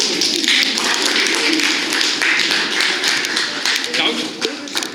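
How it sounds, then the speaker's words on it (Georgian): Audience applause fills the room at poet Makvala Gakharia's evening at the Writers' House: a dense, steady patter of many hands clapping close by, sustained throughout with a voice mixed in. "ერთი კიდე მაგარი აპლოდისმენტები ამ ადამიანს"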